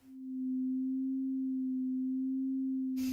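A pure sine tone from a synthesizer sound generator, fading in quickly and then holding one steady, clean hum, loud and alone, until a short burst of noise cuts in at the end.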